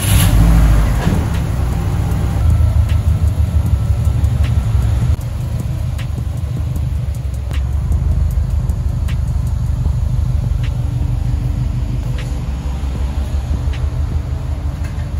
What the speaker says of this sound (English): gonna turn the car around so we have better lighting